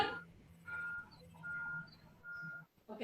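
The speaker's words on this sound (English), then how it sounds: "I can hear a truck backing up" A truck backing up sounds a series of evenly spaced, high electronic reversing beeps, fairly faint and distant against a quiet background.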